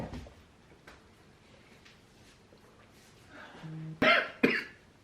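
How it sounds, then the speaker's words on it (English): Near the end, two sharp, close coughs break through, following a quiet stretch with faint background sounds. "somebody can't stop coughing"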